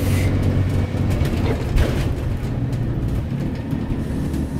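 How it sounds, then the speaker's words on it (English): A bus with a 2016 Cummins ISB diesel engine on a road test, econ switch off, its exhaust brake engaging as a steady low rumbling drone under road and cabin noise, fairly loud and continuous throughout. "we're just on a road test checking the engine exhaust brake."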